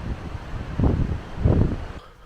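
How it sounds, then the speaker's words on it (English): Strong wind buffeting the microphone at a coastal bay during Storm Isha, a steady low rumble with two heavier gusts swelling and fading, then dropping away at the end. "it is a bit windy"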